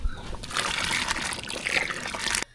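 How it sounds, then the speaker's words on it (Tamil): Tamarind water is poured into a pot of boiling sambar, a short close splashing trickle that stops abruptly at the end. "கடைசியாக புளி தண்ணி சேர்த்துக்கலாம்"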